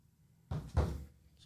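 A door opens at a birthday podcast recording, a brief close thump with a rattle and a short creak, then quiet.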